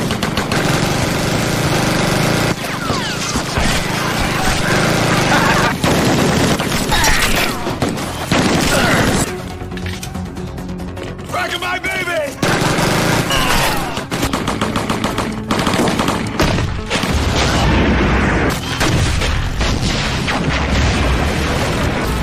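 Action film shootout with a SWAT team in a prison yard: loud, continuous bursts of gunfire and booming impacts fill the scene, broken by a brief quieter stretch before the firing resumes.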